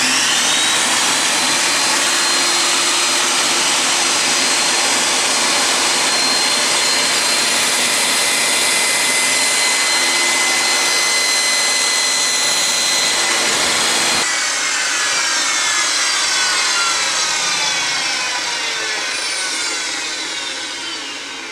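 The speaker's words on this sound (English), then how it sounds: "let's fire it up again and lift the blade up and we'll see where we're at" A portable table saw runs steadily with a loud, close whine as it cuts wood on a cross-cut sled. The pitch shifts partway through as the blade load changes, and the sound tapers off toward the end without any talking.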